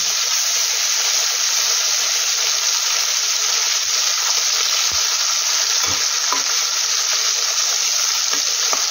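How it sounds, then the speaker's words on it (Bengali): Bhetki fish sizzles in oil in a pan, a bright, steady, close-up crackling hiss that runs unbroken, with a few soft knocks from handling the pan and no talking. "এবার আস্তে আস্তে এইভাবে ভেজে নিই।"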